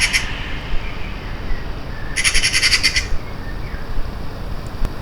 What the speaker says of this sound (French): on entend très clairement un corbeau ou une pie peut-être qui chante à proximité de la maison